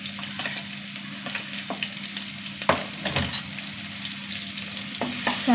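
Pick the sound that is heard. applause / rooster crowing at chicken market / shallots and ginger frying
shallots and ginger frying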